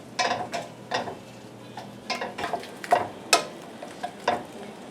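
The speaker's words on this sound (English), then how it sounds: "And you let the beef cook." Beef cooks in a pan on a gas stove, its quiet sizzle broken by irregular scraping and clinking stirs of a utensil against the pan, up close.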